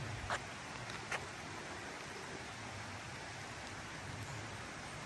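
A creek in the Great Smoky Mountains, swollen by recent rain, flows at night as a faint, continuous rushing hiss with a couple of tiny knocks near the start and no talking.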